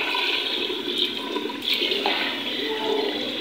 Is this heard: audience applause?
no